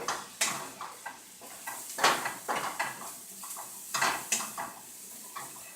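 Keto sushi rice gets stirred with soy sauce in a pan, a spoon scraping and clinking against the metal in irregular bursts over a soft sizzle, close and without talk.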